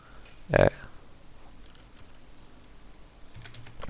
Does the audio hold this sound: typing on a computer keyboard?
yes